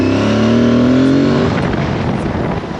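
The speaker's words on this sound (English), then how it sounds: "Both brakes, I can predict and say that this is gonna stop really well." An Aprilia Tuareg motorcycle brakes hard on both brakes with ABS engaged, its loud engine note falling steadily in pitch over about a second and a half before giving way to rough, noisy deceleration and rumble.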